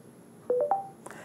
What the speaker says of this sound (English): you heard the sound, so that means it's connected to Bluetooth